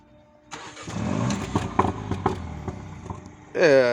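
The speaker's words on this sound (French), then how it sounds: "tu vas la démarrer, tu vas nous mettre un petit coup d'accélérateur quand même, qu'on voit ce que ça donne" A BMW 135i starts up with a burst of engine noise that carries on mixed with voices and clatter, then revs loudly and close at the end.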